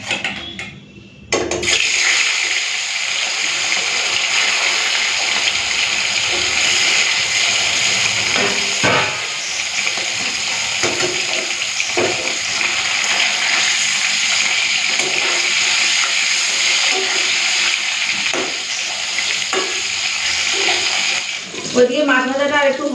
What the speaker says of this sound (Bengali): তেলটা গরম হয়ে গেছে, এখন এই ভোলা মাছগুলো ভেজে নিই।